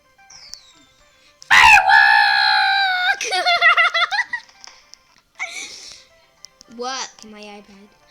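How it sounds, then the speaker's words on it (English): A person lets out a loud, high-pitched scream lasting about a second and a half, followed by strained cries and squeals amid quieter voices nearby, during a button-pressing game. "Sorry guys about my scream."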